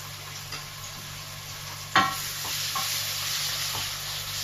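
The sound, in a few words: beef frying in hot oil in a pot for Hungarian goulash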